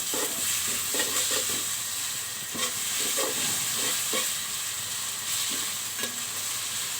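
Ginger garlic paste frying in a pan gives a steady sizzle with repeated stirring scrapes of a spoon at an even rhythm, close and moderately loud, with nobody speaking.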